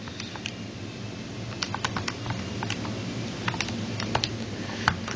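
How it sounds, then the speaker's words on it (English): Keys on a scientific calculator pressed in a quick, irregular series of light clicks, close and moderately loud over a steady low room hum, with no voices. "if I type this into my calculator, 100 times 1 plus 2/3 raised to the 20"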